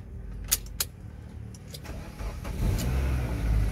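A Proton car's ignition is keyed after a new key and immobilizer setup: a few sharp key clicks and jingles, then the starter cranks and the engine catches, settling into a steady close idle.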